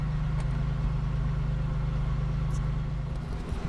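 A Pontiac car engine idles while warming up, a steady low rumbling drone that holds even throughout at a moderate level with no revving.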